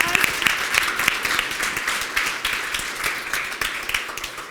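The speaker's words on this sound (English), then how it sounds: "Big round of applause." Audience applause at a live-streamed performance: lively clapping with distinct sharp claps and a cheerful crowd texture, moderately loud and tapering slightly toward the end.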